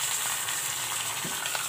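Mustard seeds, curry leaves and asafoetida sizzle in hot oil as a tempering for mint chutney, giving a steady, close, crackling hiss throughout with no talking.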